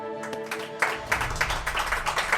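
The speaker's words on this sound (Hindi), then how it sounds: "मकान मालिक बापोद्रा के लिए तालियां।" Scattered clapping breaks out for a landlord in a family drama scene, rising after a brief tonal opening into a cluster of uneven, moderately close claps with some voices mixed in.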